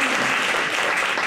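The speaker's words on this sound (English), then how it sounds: "Let's give the participants a round of applause again." A brief burst of dense audience applause for participants at an NAACP branch meeting, loud and continuous with no break.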